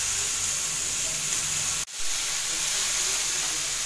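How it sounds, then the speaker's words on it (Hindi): Capsicum and green chillies sauté over a high flame in a pan, giving a loud, steady hiss of frying that cuts out for an instant before resuming. "हुण आपां शिमला मिर्चां, हरियां मिर्चां पा दांगे। बस तेज आंच दे उत्ते ही आपां ने इहनूं सौते करना है।"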